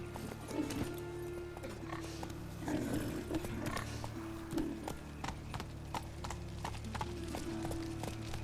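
Roach, the horse in The Witcher 3: Wild Hunt, gallops in a rapid, steady clip-clop of hooves over a low hum, with occasional faint snorts mixed in.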